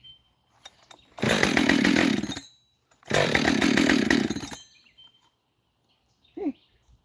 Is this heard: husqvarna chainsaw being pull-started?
yes